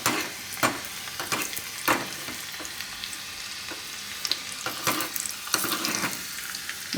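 Garlic sizzling as it fries in a pan and is stirred, with steady crackling and repeated scraping strokes of a spoon in a home kitchen during preparation of Gujarati urad dal with chil bhaji.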